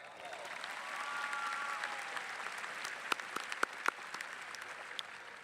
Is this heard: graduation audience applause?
yes